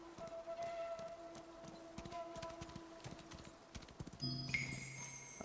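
A horse in the video game Where Winds Meet gallops with steady, quick hoofbeats alongside soft game music, ending in a brief whinny and chime.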